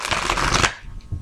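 A deck of Everyday Witch Tarot cards by Deborah Blake is shuffled close up, a single quick riffle of crisp fluttering paper lasting under a second before a softer tap as the cards settle.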